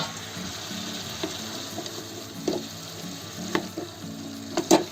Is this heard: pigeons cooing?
no